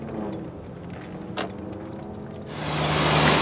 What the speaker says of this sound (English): They're sandblasting this building over here.